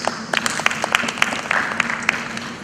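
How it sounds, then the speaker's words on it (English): Sparse, separate claps from a symposium audience on creative industries pop out sharply one by one over a quiet room hum, an uneven scattering of hand claps rather than a full ovation. "thank you for clapping"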